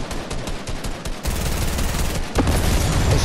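Automatic gunfire in the Fortnite video game, dense rapid bursts rattling continuously and loud throughout, growing heavier and more intense in the second half.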